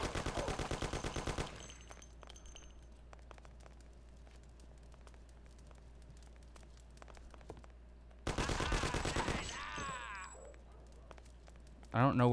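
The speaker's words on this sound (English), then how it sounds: "I heard gunshots." Machine gun fire in the Mafia video game comes in two loud sustained bursts, one at the start and another in the later part, with a quieter stretch of ambient game noise between them.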